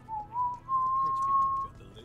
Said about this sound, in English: I need to practice my whistling